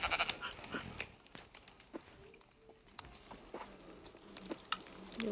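Sheep bleat inside a video game, short scattered calls and light patter over a quiet background, with faint footstep-like taps between the cries.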